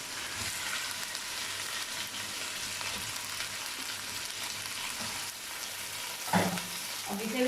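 Chicken fries in a pan with spices for a spicy Bombay chicken biryani, a continuous quiet sizzle with occasional scraping stirs and a louder clatter near the end, no voices.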